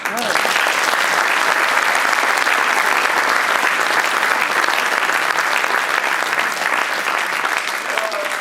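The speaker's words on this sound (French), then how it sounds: "Je voudrais qu'on l'applaudisse." A theatre audience gives loud, continuous applause for a helper who lent a workshop for set building, a thick, steady roar of clapping with a faint voice or whistle near the end.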